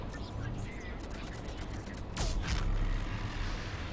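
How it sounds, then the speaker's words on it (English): Explosion from Mass Effect 3 multiplayer gameplay, a sudden loud burst with a crackling tail, preceded by a rapid patter of gunfire-like impacts over steady game noise and a background voice. "explosion!"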